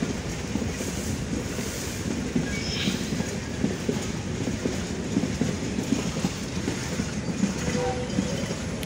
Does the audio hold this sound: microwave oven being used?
no